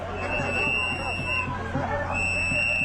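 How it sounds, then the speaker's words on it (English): Crowd gathered near a highway at a street protest, a dense babble of many voices blending together, close and steady, under a nearer voice talking. "you're joining us in the middle of the crowd here"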